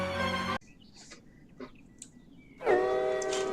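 A train pulls in during a Roblox Jailbreak game, its horn sounding as a steady tone among faint game effects, with brief bursts of music at the start and end.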